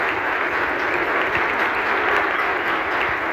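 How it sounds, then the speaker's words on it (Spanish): Steady audience applause fills a book presentation gathering in a Torrejón hall, dense and continuous hand-clapping from a seated crowd, loud and unbroken with no voices over it. "el primer aplauso quiero que sea para esta ciudad"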